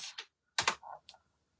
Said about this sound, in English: Let me type in brass.